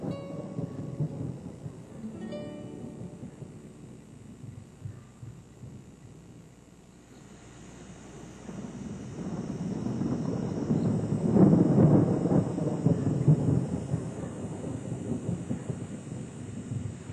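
A northwesterly monsoon thunderstorm on an early summer afternoon, with thunder rumbling up from a quiet start into a long, rolling swell of rain and wind that stays strong to the end.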